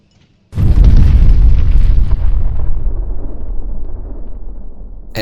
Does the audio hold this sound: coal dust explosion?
yes